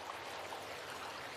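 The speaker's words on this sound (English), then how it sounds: "And this waterfall is actually really loud" A loud waterfall in the Wolf Runners video game makes a continuous, even rushing hiss of falling water with no voices over it.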